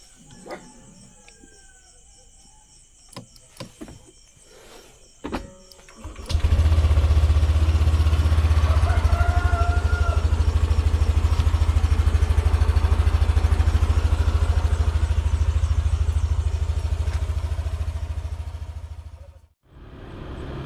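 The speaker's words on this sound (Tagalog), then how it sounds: "Paanda rin ko saglit tong motor" A motorcycle engine fires up after a few clicks and clatters, then settles into a loud, close, steady low idle that runs for over ten seconds before the engine cuts off near the end.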